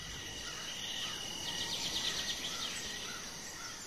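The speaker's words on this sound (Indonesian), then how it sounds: "suasana khas pedesaan, sunyi, banyak suara jangkrik" Crickets chirp steadily in a quiet countryside night, a thin high trill running throughout with soft pulsing bursts and faint background hiss, no voices.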